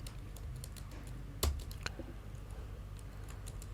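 Computer keyboard keys are tapped in a quiet room, a soft, irregular run of close clicks with one sharper keystroke standing out, no voices present.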